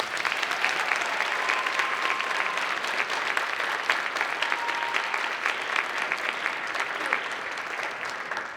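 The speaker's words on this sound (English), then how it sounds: "Please a round of applause for everybody." Dense, loud applause from an arts festival audience honouring school band directors and staff, a steady wash of many hands clapping without pause throughout.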